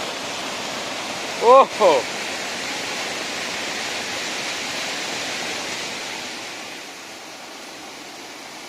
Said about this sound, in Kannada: ಈ ನೀರಿನ ಜಲ ಜಲ ಶಬ್ದ ನೋಡಿ ಎಂತ ಒಂದು ಖುಷಿ ಆಗುತ್ತೋಳಿ